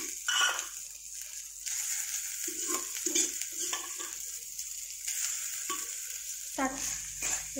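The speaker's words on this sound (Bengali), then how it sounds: "এই যে ভাতটাকে আমি ভালো করে নাড়িয়ে নিলাম" Cooked rice being stir-fried with fried onions in hot oil, a steady close sizzle broken by repeated scraping and stirring strokes of a utensil against the pan, with no talking.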